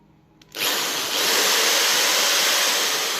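An electric drill drawing about 2 amps from an off-grid hybrid solar system with a LiFePO4 battery kicks on abruptly after a brief quiet moment, then runs at a loud, constant whine nearby.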